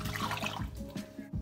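Water pours and splashes steadily into a container of oats and chia seeds, a close, continuous liquid gurgle lasting a second or so.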